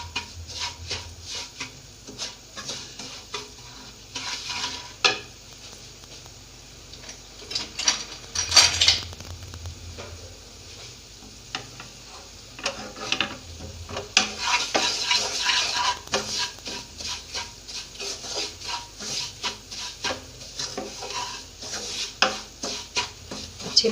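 Semolina roasting over low heat in a pan, stirred with a utensil that scrapes and taps against the metal in irregular bursts, close and moderately loud, with a faint low hum underneath and no talking.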